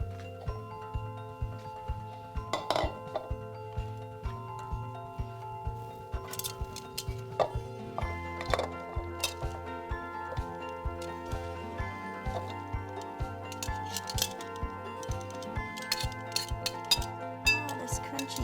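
A bowl and utensils clink lightly and irregularly as a vegetarian Chinese dish is served, with scattered small metallic and ceramic taps over a steady, rhythmic low background.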